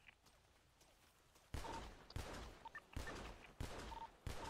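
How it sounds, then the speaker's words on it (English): Gunfire shooting into bushes in GTA V, starting after a quiet moment as about six sharp, loud shots fired at a steady pace roughly half a second apart. "Shooting bushes."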